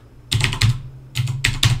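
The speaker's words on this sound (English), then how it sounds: "You can open up a terminal here and type in" Short bursts of typing on a computer keyboard, entering a terminal command on a Raspberry Pi: two quick clusters of crisp key clicks separated by a brief pause, close and clear with no talk.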